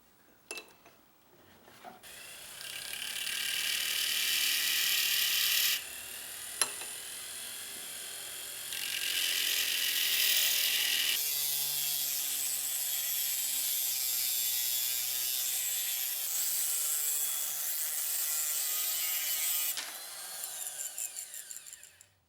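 Water-cooled rotary bit cutting jade stone while shaping a Maori-style whao carving chisel, a shrill grinding whine in long bursts, broken by short pauses and a sharp tick, with no talk.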